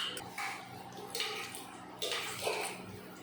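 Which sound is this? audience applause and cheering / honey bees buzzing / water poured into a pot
water poured into a pot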